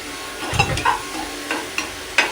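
Tomato fries in a pan with a low sizzle, broken by several short scraping stirs from a spatula at an uneven rhythm, close up and without talk.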